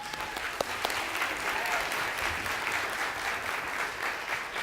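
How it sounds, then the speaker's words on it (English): An audience at an intern innovation finals presentation breaks into dense, sustained applause that holds at an even, moderate level throughout. "A big round of applause, please."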